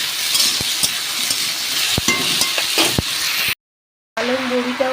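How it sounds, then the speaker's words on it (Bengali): Spices sautéed with turmeric and ginger paste in a pan, with a low sizzle and several sharp taps of a spoon against the pan, then a brief silence and a louder frying hiss. "আমি কিন্তু মশলাটা বেশ কিছুক্ষণ ধরে কষিয়ে নেবো"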